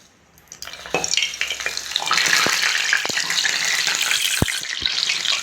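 Soft urad dal vada batter hisses and sizzles in hot oil, a loud, steady crackle that starts abruptly and continues throughout, with a few sharp pops.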